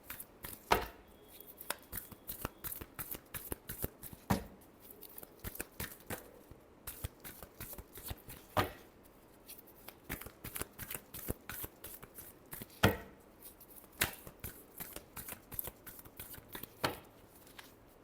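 Tarot cards are shuffled by hand in a long run of crisp riffling and slapping bursts, repeated in an irregular rhythm at close range with no voices.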